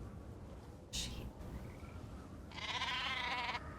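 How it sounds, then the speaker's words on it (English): Sheep bleat in two short wavering calls, one brief and one longer and louder, heard faintly over a low background hum. "Hear the sheepy sheep."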